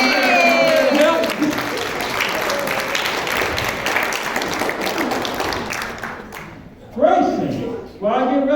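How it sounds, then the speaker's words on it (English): Dense audience applause at a magic show during a church dinner, steady clapping for about six seconds that fades out, with a voice speaking at the start and again at the end. "Everybody give Grayson a big round of applause."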